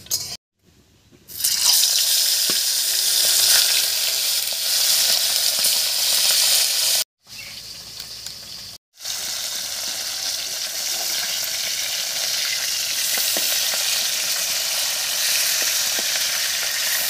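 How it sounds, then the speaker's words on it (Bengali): Fish sizzling in hot mustard oil in a wok over a stove fire, a loud steady crackling hiss that runs through the clip with two short breaks and no talk. "তেল গরম হয়ে গেছে, মাছগুলো ভেজে নিচ্ছি।"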